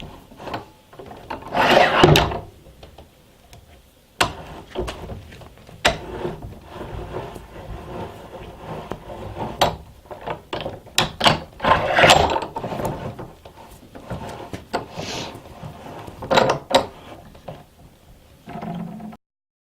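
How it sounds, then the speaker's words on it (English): A wooden workbench vise on a timber-framed bench is hauled out to its full length in a series of bursts, with ratcheting, clunking wood-on-wood rattles and knocks, separated by short pauses, up close with no talk. "I can haul that vise out its entire length, which is a long way, and it doesn't budge"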